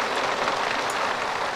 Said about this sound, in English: That's hail. That is hail. Look at it bouncing off the ground.